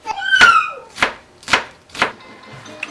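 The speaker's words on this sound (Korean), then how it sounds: "아내의 팥 써는 소리에 카메라를 켰다" Four sharp knife chops through red beans on a cutting board, evenly spaced about half a second apart, close and clear, with no talking.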